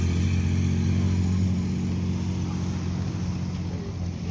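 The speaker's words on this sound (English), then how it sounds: "There goes the Datsun. Sounding quite nice." A classic Datsun car pulls away at a car meet outside a country inn, a steady low engine hum with a smooth idle-like rumble that slowly fades as it drives off, with no talk over it.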